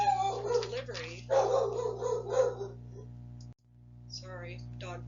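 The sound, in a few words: dog barking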